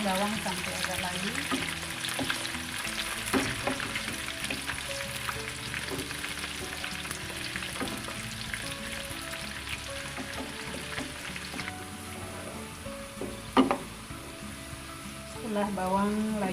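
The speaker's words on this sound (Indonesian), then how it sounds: "Goreng bawang sampai agak layu." Thinly sliced onions fry in cooking oil until they soften, part of making fish floss, with a steady close sizzle. Occasional stirring scrapes and a brief louder clatter break into it.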